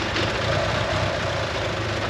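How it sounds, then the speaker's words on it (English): A Mitsubishi Eclipse engine idles loudly up close with a fast, steady ticking pulse from an exhaust leak running through its rough drone. "hear that ticking? We've got a huge exhaust leak down there"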